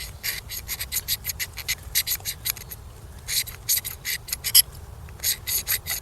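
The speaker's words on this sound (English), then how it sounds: "it is scraping off quite nicely using this little notch here" A Tops Lite Trekker survival knife's spine notch scrapes a magnesium rod in quick, rhythmic rasping strokes, close and crisp with short pauses between bursts, and no one talking.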